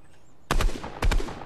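Enemy gunshots and sniper fire in a video game crack out in two sharp bursts of several shots each, loud and close after a near-silent moment.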